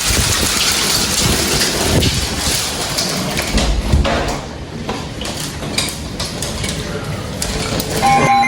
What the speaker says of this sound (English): Oh, there's hail.